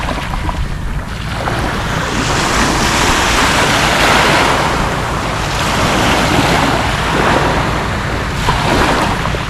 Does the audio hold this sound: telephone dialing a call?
no